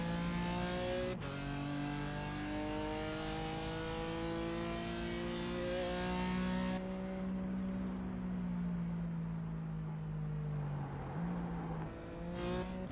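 BMW race car engine in a sim racing game at Rudskogen, Norway: a loud, close, high-revving whine climbing through gears, with sharp shifts and a downshift near the end, no talk.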